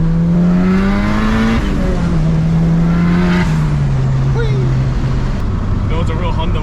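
A turbocharged B18C engine in a Honda Integra revs hard on the street, its pitch climbing, dipping and climbing again in a loud, continuous drone that fills the whole stretch.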